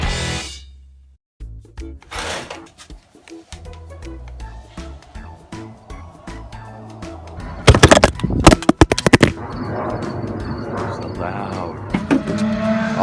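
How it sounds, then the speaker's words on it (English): A car revs hard through a loud aftermarket muffler in short, raspy bursts that rise above a background of music and people talking. "Nobody cares about your dumb, loud muffler."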